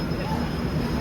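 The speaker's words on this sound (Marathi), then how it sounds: "ही बघा ही आहे आमची ट्रेन राजधानी एक्सप्रेस." A Rajdhani Express train in motion, heard from inside a 3AC coach as a steady low rumble with a faint high whine.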